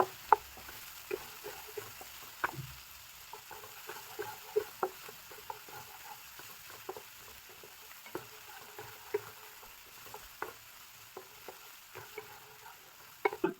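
Onion and tomato frying in a pan for palak mutton, a quiet, steady sizzle punctuated by regular sharp ticks and scrapes of a spoon stirring, with no voices.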